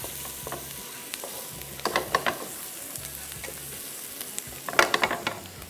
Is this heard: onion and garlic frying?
yes